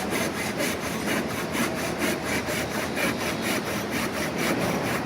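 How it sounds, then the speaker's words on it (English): A hand joint saw cuts through wood clamped in a vise, its steady back-and-forth strokes rasping in an even rhythm, close and continuous with no talking. "You just let that saw drop."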